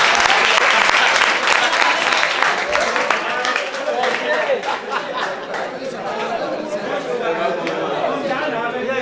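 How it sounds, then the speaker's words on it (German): An audience at a gathering breaks into sustained applause, loud at first and then settling into scattered clapping mixed with murmured chatter. "Und dafür denke ich, dass sie verdient einen Applaus."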